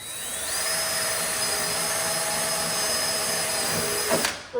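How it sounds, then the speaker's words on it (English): A power drill bores a hole for a self-tapping screw during a Mazda Miata repair, its close, loud motor whine rising in pitch at the start, then holding steady for about four seconds before stopping abruptly. "drill a hole for"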